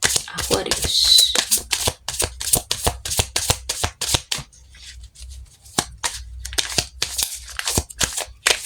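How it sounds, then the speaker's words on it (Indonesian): Tarot cards are shuffled by hand in a quick series of crisp riffling snaps and flicks, close and clear, pausing briefly midway before resuming. "Kita shuffle kartunya, kita lihat energi keberuntungan kalian ya."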